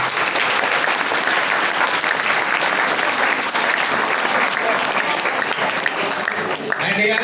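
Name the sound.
applause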